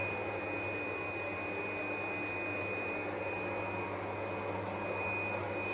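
A PFi B2 cutting table creases and cuts business cards, a steady faint mechanical whir and hum with a high constant tone, unbroken and without voices.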